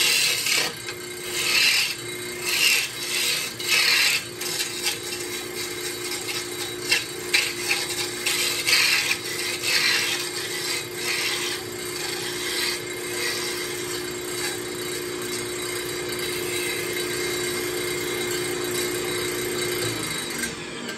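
Roughing gouge cutting a wooden mallet handle spinning on a lathe, a steady rasping scrape with pulsing bursts early on, then a more even continuous shaving hiss over the lathe's hum, close and alone.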